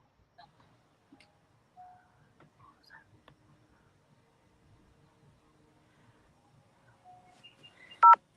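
Telephone keypad dialing tones, a few short sparse beeps spread through quiet with soft whispering and faint ticks, ending in a louder tone burst near the end.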